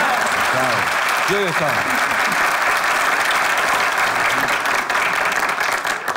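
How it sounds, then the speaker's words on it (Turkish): A crowd claps steadily and loudly throughout, with a few voices speaking briefly over the applause. "Kendi kendimi alkışlıyorum şu an."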